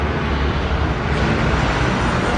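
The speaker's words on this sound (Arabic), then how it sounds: "طيارة." Broadband roar of an airplane passing over a forest in the Antalya area, steady and fairly loud for the whole stretch with no talk over it.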